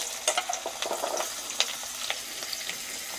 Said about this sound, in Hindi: तेल के गर्म हो जाने पर हम इसमें आलू, गोभी और गाजर को डाल देंगे फ्राई होने के लिए